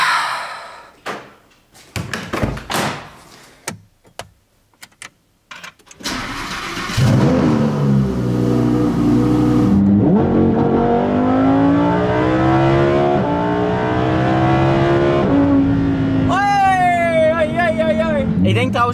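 A Lamborghini sports car starts up after a few door and handling clatters, then its engine idles and revs loudly and steadily, with pitch sweeping up and down through rising throttle blips and a higher whine near the end.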